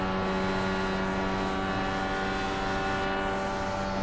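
A DW-12 IndyCar at Road America in the iRacing sim holds a steady, loud, buzzing engine drone at high revs with a constant harmonic whine, close and continuous with no talk over it.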